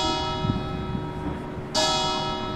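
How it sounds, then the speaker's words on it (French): Bells of the Saint-Léger church ring steadily with a sustained, resonant peal, heard from some distance, growing brighter and fuller as a new stroke rings out near the end. "Vous entendez les cloches qui sonnent?"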